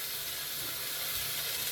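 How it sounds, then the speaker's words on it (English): Beef pieces sizzle in hot olive oil in a large deep pan, a soft, steady frying hiss heard quietly on its own for a brief moment. "you gotta love the sound of that sizzle, eh?"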